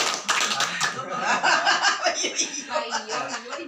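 A small group of women in a training session claps briefly, a loose scatter of hand claps that soon thins out under chuckles and talk.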